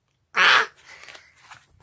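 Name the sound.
storyteller imitating the cry of a giant roc bird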